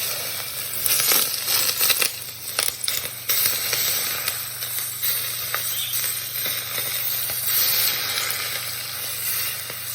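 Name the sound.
hot oil poured over spices, sizzling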